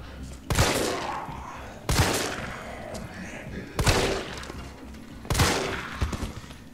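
Gunfire in Resident Evil 3 Remake as shots are fired at an enemy: four loud, sharp blasts spaced about one and a half seconds apart, each followed by a brief echoing tail.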